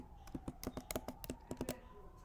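Quick keystrokes clatter on a computer keyboard in an irregular burst of a dozen or so clicks, close and fairly quiet, with no voices.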